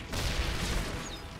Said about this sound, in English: Oh god, that's a grenade.